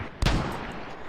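A single mortar shell explodes in a combat video game, one sharp loud blast with a deep thump that rolls off into a brief rumbling tail.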